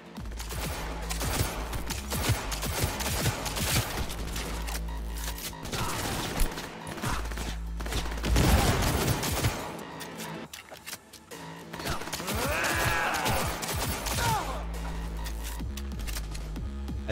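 Dense automatic gunfire and bursts of shots in the game Cyberpunk 2077, loud and continuous over a combat soundscape with thumps and music, shooting nearly nonstop throughout.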